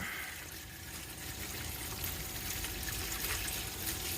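Coolant pouring out of a car in a steady, noisy liquid rush that holds constant for a few seconds, close and fairly loud.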